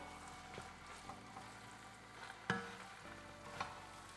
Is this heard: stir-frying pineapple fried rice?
yes